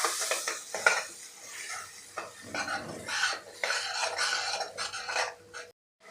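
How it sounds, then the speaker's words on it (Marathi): A ground masala paste is sautéed in oil in a pan for a Vidarbha-style aamti, with repeated scraping spoon strokes and clinks against the metal over a soft, continuous sizzle, close and steady until a brief stop near the end. "आता यामध्येच घालायचं आहे आपण जे वाटण तयार केलेलं ते वाटण यामध्ये घालायचं आहे। तेल सुटेपर्यंत आपल्याला परतून घ्यायचं आहे"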